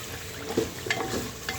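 Meat dropped into hot oil and frying in a pan, a steady sizzle with a few sharper spits and stirring scrapes, close and fairly quiet.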